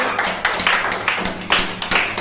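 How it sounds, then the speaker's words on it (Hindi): Children clapping loudly and close at a kids' entertainment event, a quick series of sharp, fairly regular claps in a lively rhythm. "इंद्रजित पे जोरदार ताली"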